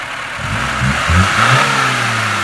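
A VAZ Zhiguli (Kopeyka) car engine turns over and catches, then revs up with a rising roar; close and loud, no voices.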